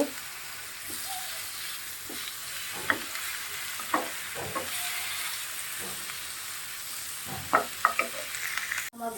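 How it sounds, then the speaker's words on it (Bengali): Carrot frying in a pan with cinnamon and cardamom for carrot payesh: a steady soft sizzle broken by occasional spatula scrapes and clicks against the pan, with no talking. "দারচিনি গাজরটা একটু ভেজে নিব"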